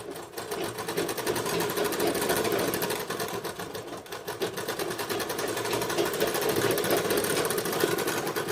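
A domestic sewing machine runs a repeat stitch along the sleeve of a blouse, its rapid needle chatter close and steady for the whole stretch, with no talk.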